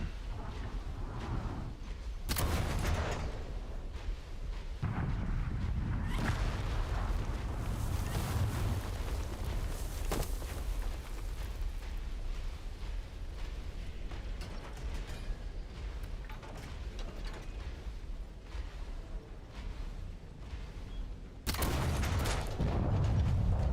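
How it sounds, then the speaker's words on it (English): Heavy cannon booms and rumbling blasts in the video game Sand, with loud thumps at the start and end and a continuous mechanical churn in between. "Getting better with the cannons, learning the movement a bit."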